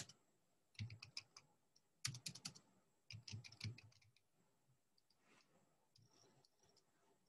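Computer keyboard typing in irregular bursts of quick, crisp key clicks with short pauses between, close and fairly quiet, with no talking.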